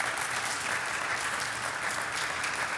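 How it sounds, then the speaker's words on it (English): Steady, dense audience applause during a talk on love and Torah, a continuous wash of many hands clapping at once, evenly loud across the short burst with no voices on top. "Can we get some applause for that?"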